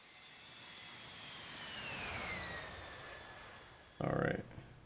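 A jet airliner in the Infinite Flight simulator passes by, a smooth whine sliding downward in pitch as it swells and fades, quiet, ending in a short louder burst.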